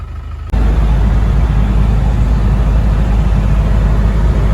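A Land Rover Discovery 200TDI diesel engine idles steadily after starting, following a brief quiet lead-in; a loud, continuous low rumble with constant clatter, close by, with no voices.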